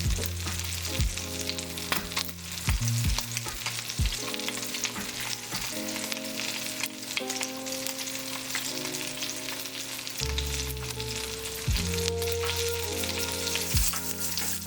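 Rainbow trout fries in a pan with steady, close sizzling and crackling throughout, broken by a few brief clinks and shifts along with music-like tonal hum underneath.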